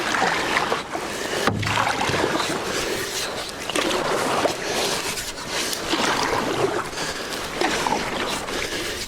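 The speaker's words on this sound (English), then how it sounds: "It's also first time taking my new canoe out, especially out on a river like this." Paddling a new canoe on a high-running river, a continuous close wash of rushing water and splashing with soft knocks, no talk.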